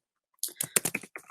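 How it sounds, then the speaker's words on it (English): A short, quick burst of typing on a computer keyboard, close and crisp, with a brief pause near the end. "you can tell my typing is not great for 7 AM"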